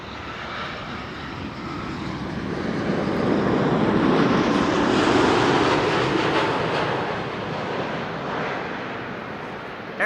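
An Air Canada airliner arriving from Toronto, its jet engines roaring in a broad, steady rumble that swells as it passes nearby and then eases off slightly, with no talk over it.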